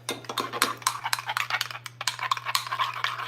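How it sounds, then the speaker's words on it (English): A utensil stirring vanilla into pie dough ingredients in a bowl, with repeated clinking and scraping strokes in an irregular rhythm, close and moderately loud over a low steady hum. "And you mix it."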